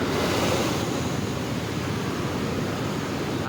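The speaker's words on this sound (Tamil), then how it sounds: "மூணு ஷட்டரை திறந்துருக்குறாங்க பாருங்கள் ஐயா ஐயா ஐயா பாருங்கள் நண்பர்களே தண்ணியோட சவுண்டை கேட்டிங்களா" A steady, loud roar of rushing water from three open shutters of Sholayar Dam near Valparai, dense and unbroken throughout, like a powerful torrent pouring nearby.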